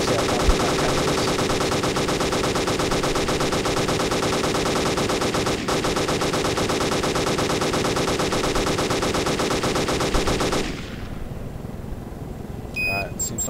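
Apache attack helicopter firing its guns in the ArmA 2 video game, a sustained, dense stream of rapid gunfire for about ten seconds, loud and close, then cutting off to quieter background with a few faint beeps.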